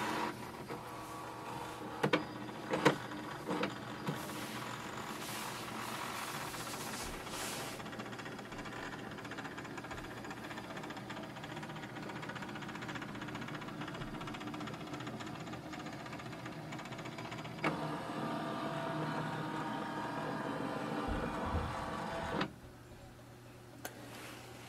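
An HP Envy Photo 7800 printer scans a document, its motor whirring and ticking steadily for about twenty seconds before the mechanism stops with a few clicks, close and alone.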